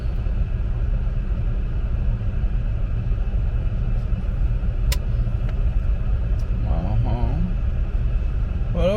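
A fire-damaged 2013 Chevy Equinox on its first test drive, heard from inside as a steady low engine and road rumble that runs throughout, with a few faint clicks and brief higher tones above it.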